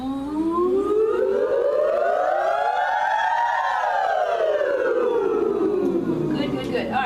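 A choir's voices glide smoothly upward and then back down together, imitating a wailing siren in one long, loud sweep during a rehearsal warm-up.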